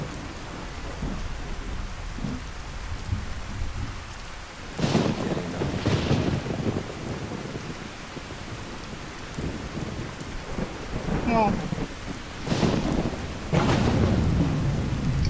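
Steady rain falls over a tent in the Skyrim video game, with several deep rolling thunderclaps booming through it at intervals, loud and close, and no talking.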